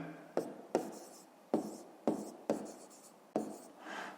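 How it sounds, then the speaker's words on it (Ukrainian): A pen writes an answer into a school exercise book in a quiet room, with six or seven distinct scratchy strokes, each starting with a tap, close up and with no talking. "записуємо відповідь"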